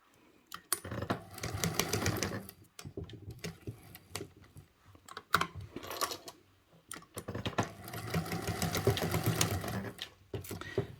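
A sewing machine stitches a box and cross pattern on a fabric travel organizer, running in two long rapid bursts separated by short pauses and a few brief taps.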